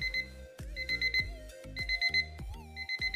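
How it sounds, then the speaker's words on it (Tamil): A digital alarm clock beeps in repeated short electronic bursts, each a quick cluster of high tones with brief gaps, sounding fairly quiet and slightly muffled as if covered by a hand. "உங்களுக்கு பீப் சவுண்ட் கண்டினியூஸாக கேட்டுக்கிட்டே இருக்கும்"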